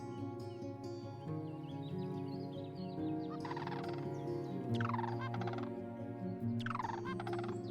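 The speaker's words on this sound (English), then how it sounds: "Interesting bird sound as well." Bird calls in the Wingspan board-style video game, a gobbling, turkey-like warble with repeated descending trills over a steady tonal music bed, moderately faint.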